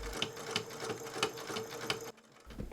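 Sewing machine stitching bias tape around the edges of fabric, a close, busy mechanical whir with rhythmic clicking that runs steadily, then stops abruptly before a brief restart.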